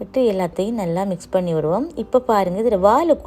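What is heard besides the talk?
No distinct noise like a dog, phone or traffic.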